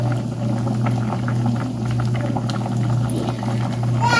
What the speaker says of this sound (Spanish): Ya lleva 15 minutos hirviendo.